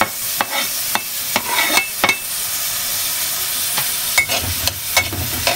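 Garlic fries in a pan with onions for menudo, giving a steady sizzle and hiss broken by sharp scraping stirs and clinks of a utensil against the pan, close and loud.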